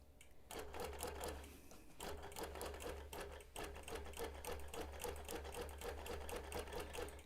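A sewing machine runs fast in close-up during free motion quilting of a mod boxes pattern, its needle chattering in a steady rapid rhythm. The stitching breaks off briefly a few times, then resumes at the same pace.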